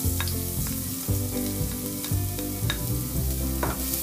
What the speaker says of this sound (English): When the spices are roasted well, add the ginger paste and garlic paste.